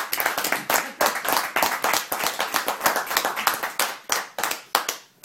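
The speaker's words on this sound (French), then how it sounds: "je crois qu'on peut vraiment l'applaudir" Sustained applause from a group, many hands clapping in a dense, steady patter that continues throughout without pause.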